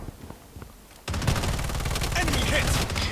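After a second of quiet, rapid gunfire in the video game Call of Duty: Warzone Mobile breaks out and keeps rattling in dense bursts, with a voice talking underneath.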